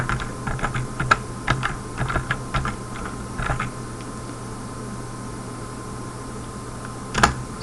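C code being typed on a computer keyboard, bursts of quick close key clicks for about four seconds over a steady fan hum, then a pause and a final short flurry of keystrokes.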